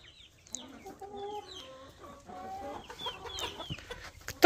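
Chickens clucking in a backyard coop, a run of soft close clucks and short throaty calls rising and falling, with a few sharper squawks, and a loud knock at the very end.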